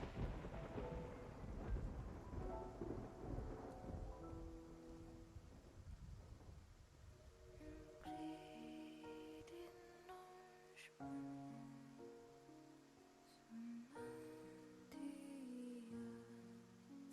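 A video game thunderstorm with rain: deep rolling thunder rumbles at first, then a steady hiss of rain with tonal game music rising over it, all faint.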